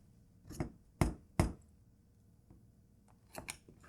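A knife chops through a frozen peanut butter pie with an Oreo and Nutter Butter crust, giving several sharp, close cracking thuds spaced irregularly with quiet pauses between.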